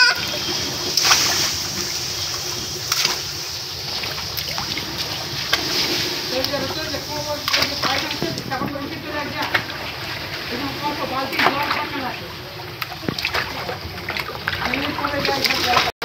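Children splash water while swimming in a small pool, giving irregular slaps and sloshing bursts close by, with voices talking over the splashing throughout.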